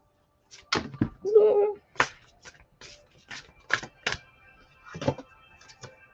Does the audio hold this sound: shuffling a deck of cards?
yes